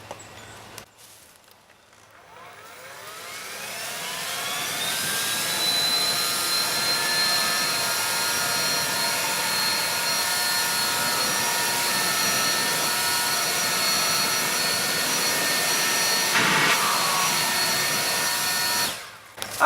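A Yard Force 120V cordless leaf blower whines up from a brief lull into a loud, steady high-pitched roar as it clears pine cones, needles and small branches from rough ground, cutting off near the end.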